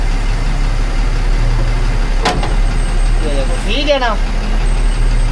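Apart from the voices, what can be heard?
terminal truck engine pulling away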